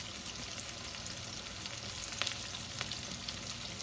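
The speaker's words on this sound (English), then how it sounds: "As they start to fry, they'll cook down just a little." Sliced squash frying in a hot pan, a steady dense sizzle throughout with a few sharper pops and crackles, close and continuous with no talking.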